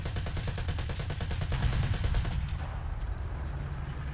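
Rapid machine gun fire from a tank in War Thunder rattles in a dense, even burst for over two seconds, then cuts off, leaving a low engine rumble.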